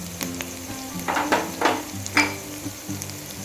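Spices frying with a chicken filling in a hot pan: a loud, close sizzle with several bursts of stirring and scraping, no voices.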